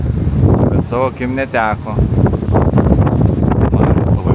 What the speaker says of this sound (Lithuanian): Vėjai didžiuliai.